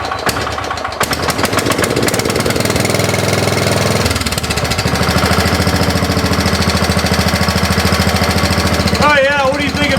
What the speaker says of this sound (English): That old Kohler's running like a watch.